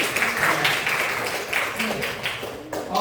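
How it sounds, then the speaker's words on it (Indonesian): Classroom of students clapping for a group, a short burst of brisk, uneven hand claps close by, lasting a few seconds. "Kita tepuk tangan dulu buat kelompok."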